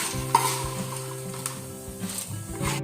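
Cashews and raisins fry in hot ghee with a steady close sizzle, while a spoon stirs and scrapes against the pan throughout.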